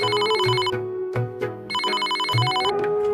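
A cartoon telephone rings in a home, two bursts of bright electronic trilling separated by a short gap, loud and close over soft background music.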